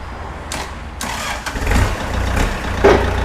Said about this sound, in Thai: รถสตาร์ตติดง่ายนะคะ